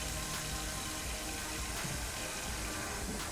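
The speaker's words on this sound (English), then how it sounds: "I'm gonna get some water into this big old stock pot." Tap water pours into a big stock pot in a home kitchen, a close, steady, full rushing gush that does not let up for the whole stretch, with no talk.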